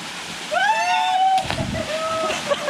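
A loud splash as someone jumps into deep water at a campsite, with sloshing afterward and excited voices calling out before and after.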